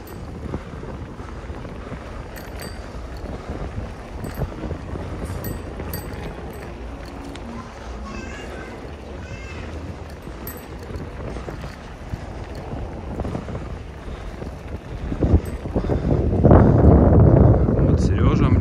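Sea breeze on the Black Sea coast at Sochi buffets the microphone in a steady low roar, swelling into heavier gusts near the end, with distant boat and water sounds underneath.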